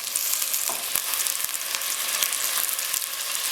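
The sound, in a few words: onions sauteing in cooking oil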